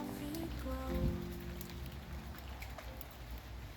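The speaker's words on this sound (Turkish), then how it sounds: "Bugün de hava yağmurlu." Rain patters steadily on surfaces on an autumn day, a soft continuous hiss with scattered drop ticks and a low hum underneath.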